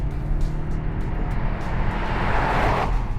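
A BMW X5 M Competition SUV from 2020 drones with a steady, loud engine and exhaust roar under acceleration, heard without any voices over it.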